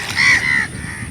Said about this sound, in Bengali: ঘরের উপরে কাকগুলো দেখতে পাচ্ছেন